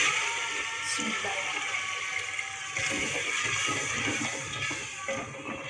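Water poured into a pan of cooking taro (arbi) for a home-style curry: a steady, close rushing splash with hissing that lasts the whole stretch at an even level.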